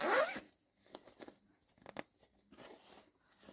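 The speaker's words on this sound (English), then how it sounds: "Now, let's zip it up." A packed suitcase is zipped shut: one loud, close zip pull at the start, then a series of shorter, quieter zipper tugs and rustles as the zipper works around the case.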